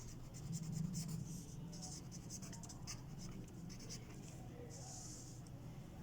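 Marker or chalk scratching across a board during a math lesson, in a run of quick, close strokes over steady low room hum, with brief pauses between bursts of writing.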